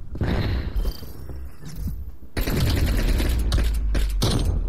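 Gunfire in the Call of Duty: Cold War video game, a dense burst of loud, rapid shots with a brief lull before a second, heavier volley.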